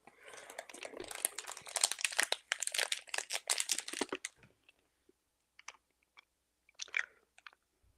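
Crunchy chewy candy that smells like Airheads being chewed close up, with dense crinkly crunching and mouth noises for about four seconds, then a few quiet isolated bites and chews after a pause.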